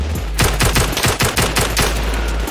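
Rapid gunfire in the VR shooter Zero Caliber VR, with a fast burst of about a dozen loud, close shots over a low rumble, then a sustained roar as the firing stops, with no talking.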